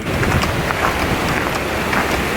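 Hurricane-force gale wind roaring across an open golf course with heavy rain, a loud continuous buffeting rush and microphone wind noise throughout, with no pauses.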